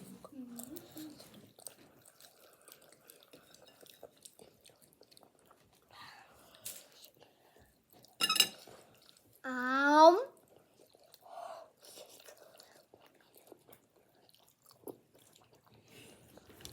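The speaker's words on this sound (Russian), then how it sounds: "это тут наверху немножко хрустит" Close, quiet chewing of baked mac and cheese with a crunchy top, a few crisp crunches and soft squishy bites, interrupted by short bits of talk in a hushed room.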